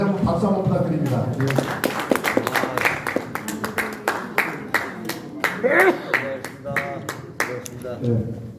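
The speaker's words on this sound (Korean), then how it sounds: "다시 한번 박수 한번 부탁드립니다." An audience at a political party launch ceremony claps in sharp, uneven bursts that run steadily throughout, mixed with someone talking over a microphone.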